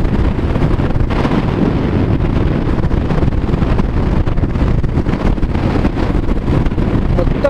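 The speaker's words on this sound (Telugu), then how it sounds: "అసలు బైక్ అయితే ముందుకు వెళ్ళట్లేదు, ఎదురు గాలి మొత్తం వెనక్కి ఒక సైడ్ కి నెట్టేస్తుంది." Strong headwind roars across the microphone of a moving motorbike on a cloudy, rainy ride from Puri toward Visakhapatnam, a loud, steady, unbroken rumbling buffet that fills the whole clip with no break.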